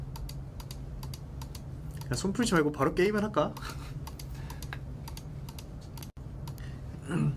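Gaming keyboard keys clatter in scattered bursts while a person talks in Korean and laughs briefly partway through.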